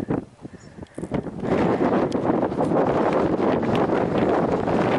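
Strong wind gusts across a Grand Canyon overlook, starting as patchy buffeting and then roaring steadily into the microphone as loud, broadband rushing noise.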